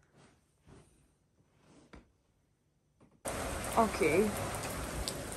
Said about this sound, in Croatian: izlazimo i ovako kiša pada